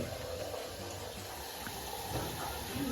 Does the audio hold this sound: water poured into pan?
yes